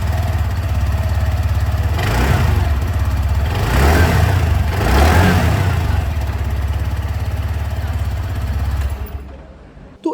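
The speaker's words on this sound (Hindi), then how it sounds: "जो एग्जॉस्ट साउंड है वो मैं आप लोगों को यहाँ पर एक बार सुना दूँ।" A TVS Jupiter 125 DT SXC scooter's exhaust runs close and steady, a low buzzing idle with a few light throttle rises that swell and ease back before the engine cuts off at the end.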